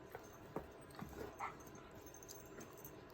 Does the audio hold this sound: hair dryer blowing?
no